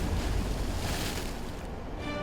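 Rough, strong sea waves surge in a continuous, loud, broadband wash with gusty wind-like rushing, close by, with no voices over them.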